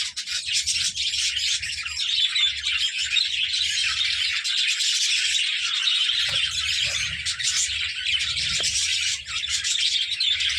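A breeding budgerigar colony with chicks and eggs keeps up a dense, continuous twittering and chirping, many birds calling at once close by, with faint low rumble underneath.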